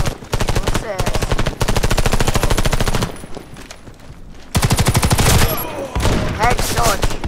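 Rapid automatic gunfire in the first-person shooter Warface comes in several long, loud bursts separated by brief pauses, close and dominant.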